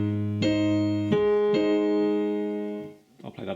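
Piano passage from a song, right-hand chords jumping between octaves: three clear struck chords ringing and sustaining in turn, close and fairly loud, followed by a softer scattering of notes at the end.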